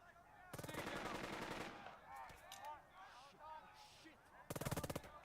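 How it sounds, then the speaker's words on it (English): Rapid machine-gun bursts from the World War II strategy game Burden of Command, with a long burst near the start and another near the end, distant shots and whistling effects between, moderately loud with no talk. "they're shooting against the other guys"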